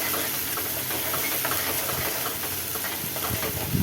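Finely chopped onions sizzle steadily as they are sautéed in hot oil, a dense continuous crackling hiss with faint stirring scrapes.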